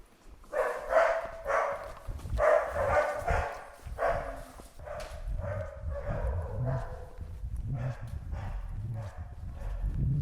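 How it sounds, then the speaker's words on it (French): Dogs bark repeatedly at night in the old town of Nice, a run of sharp, echoing barks at moderate distance, with faint clinking and voices in the background. "Les aboiements rajoutent un côté métal."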